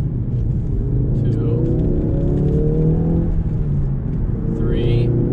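A simulated car engine revs up and drops back through manual gear shifts, a steady loud rumble with rising and falling pitch sweeps as each gear changes, while someone talks over it.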